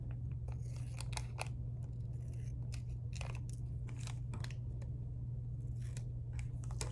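Scissors cut paper for an art project, a series of short, quiet snips and crisp crunches spread irregularly over a low steady hum, close by with no talk.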